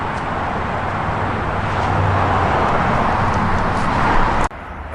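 Steady broadband rumble of car traffic passing at a bridge, a continuous moderately loud wash of road noise with no distinct voices, cutting off abruptly near the end.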